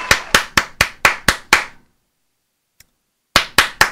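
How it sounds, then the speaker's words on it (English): Sharp, loud hand claps in a steady rhythm, about seven in a row, then near silence with one faint tap, then three more claps, celebrating a YouTube channel anniversary. "Applause."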